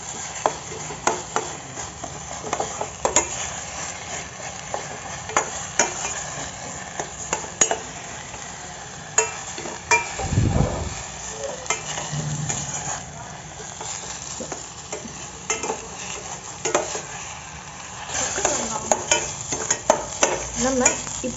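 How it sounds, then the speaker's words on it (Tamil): Apple pieces fry in butter for halwa, giving a steady close sizzle broken by frequent spoon scrapes and clinks against the pan, with one brief low thump partway through. "நல்லா பட்டரில் இன்னும் ஃப்ரை பண்ணிக்கோங்க."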